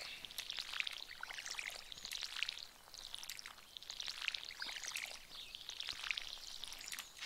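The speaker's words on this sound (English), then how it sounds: "Water them all really quickly." Water pours steadily from a watering can onto potted plants, a continuous bright splashing spray that swells and eases in waves without pause.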